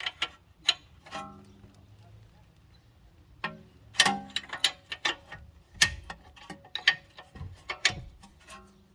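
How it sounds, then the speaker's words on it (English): A ratchet works loose the rear alignment nut and bolt on a 2016 Audi A7 Quattro, with bursts of quick metallic clicking, taps and clunks in uneven runs, close and crisp, separated by brief quiet pauses. "Remove this nut and bolt here, which is the alignment nut and bolt."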